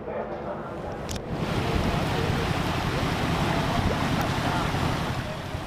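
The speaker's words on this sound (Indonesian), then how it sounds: "Warga menyaksikan air mengalir ke laut setelah tanggul penahan rop sengaja dijebol" Floodwater in Pekalongan rushes out to sea through a deliberately breached tidal embankment, a steady loud roar of flowing water mixed with wind buffeting the microphone, constant throughout.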